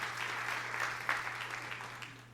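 Applause from a church congregation, a steady wash of clapping lasting the whole stretch, fairly distant and even, with a low hum underneath.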